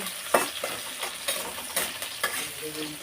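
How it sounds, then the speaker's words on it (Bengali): Sliced onion and green chili frying in oil for chowmein, a steady close sizzle broken by repeated scrapes and stirring strokes of a spatula. "পেঁয়াজ কাঁচা লঙ্কা ভেজে নেবো"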